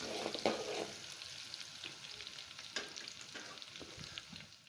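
Minced garlic sizzles in a hot pan while a utensil stirs it, bringing a few scraping clatters, for a drumstick-pod vegetable dish; steady, fairly quiet frying with no voice.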